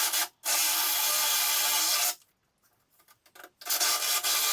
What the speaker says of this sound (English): we'll start drilling out for the handles and for the latches